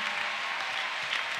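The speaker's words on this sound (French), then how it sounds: "est-ce que nous pouvons maintenant donner une bonne main d'acclamation à Dieu?" Church congregation applauding for God during a French-language worship service, a steady broad wash of clapping from a crowd, fairly loud and continuous with no talk over it.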